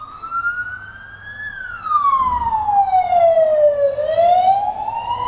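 A Spanish police car siren wails loudly, its pitch sweeping slowly up and down as the vehicle passes close by, with road rumble underneath.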